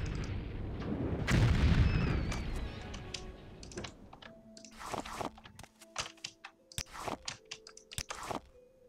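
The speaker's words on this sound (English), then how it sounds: "For blowing stuff up in one awesome fireball." A fireball spell erupts in Morrowind with a loud, rumbling burst that swells and then decays, followed by scattered clicks and thuds from the game.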